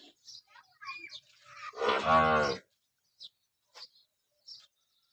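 A single cow moos loudly and nearby, a long low call, with scattered faint chirps and small sounds around it, on a small dairy farm.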